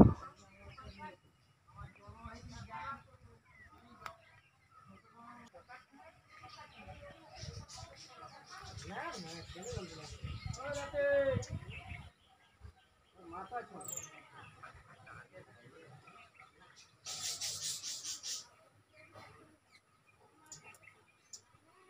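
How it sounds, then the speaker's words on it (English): Bright, varied robin song trills and whistles through the clip, mixed with quieter outdoor noises and brief gaps. "Here we can hear the song of a bird. It is called robin redbreast"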